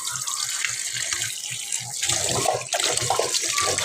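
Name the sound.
tap water washing vegetables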